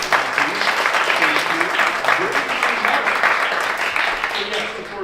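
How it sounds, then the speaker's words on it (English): Audience applause for the volunteers at a beginner's longsword tournament, a dense, sustained wash of clapping from a sizable crowd that continues evenly throughout. "round of applause to all the volunteers who put this on"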